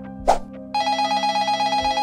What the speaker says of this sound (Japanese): 家の電話が鳴った